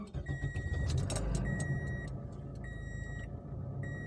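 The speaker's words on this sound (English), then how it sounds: "we'll go and start the car" A Toyota Corolla engine rumbles low and steady at idle after starting, with repeated electronic beeps chiming above it inside the car.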